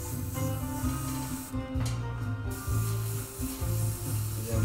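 Airbrush or spray gun hisses steadily as flesh-tone paint is sprayed onto a panel, a continuous close-up spray with short pauses and no talking.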